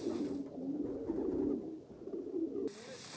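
Racing pigeon cooing softly in a steady low murmur, close by, during preparations before a race.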